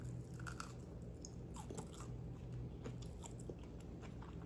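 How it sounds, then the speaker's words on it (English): Someone bites and chews hot water cornbread, giving close, crisp crunches in an irregular rhythm over a low background hum, with no talking. "Can you hear that crunch?"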